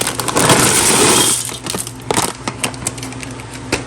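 A whole bag of dry pasta is poured into a cooking pot, a loud rattling rush for over a second that thins into scattered clinks and ticks as the last pieces settle.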